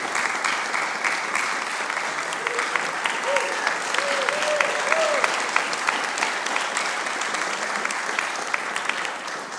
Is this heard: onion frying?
no